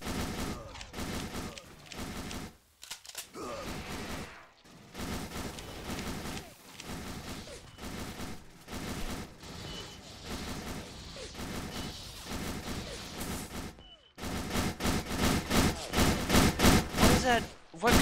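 HBR rifle fire in the SS13 Colonial Marines game, dense rapid bursts of gunfire running almost continuously with short gaps, loud and busy, mixed with game noise and players talking over it.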